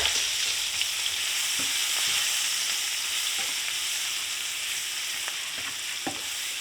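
Ground beef and flour roux cooking in a pan, a steady bright sizzle running throughout with a few soft scraping stirs scattered across it, fairly quiet and close.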